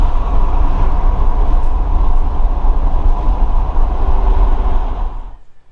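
Jaguar XJS V12 with modified exhaust and five-speed gearbox, heard from inside while cruising as a loud, steady low engine roar and road rumble that fades out near the end, with no voices.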